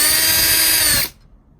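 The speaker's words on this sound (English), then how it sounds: "you want to get a power drill because it just makes life so much easier." A power drill whines steadily and loudly, close up, while working on a door during a Nest x Yale smart lock installation, then cuts off abruptly after about a second, leaving near silence.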